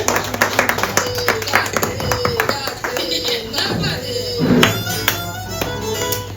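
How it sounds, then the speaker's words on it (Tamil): An audience claps at a women's day celebration as a memorial plaque is presented to an elderly woman. The claps are sharp and scattered and run steadily under ongoing talk and room murmur. "நல்ல ஒரு பெரிய பெரிய கைத்தட்டல் அவங்களுக்காக"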